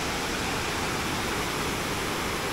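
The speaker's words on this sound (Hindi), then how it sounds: "पानी झरने की आवाज़ इतनी अच्छी आ रही है" Meenmutty waterfall in Wayanad roars steadily and loudly at close range, a dense unbroken wash of falling water filling the whole clip with no voices.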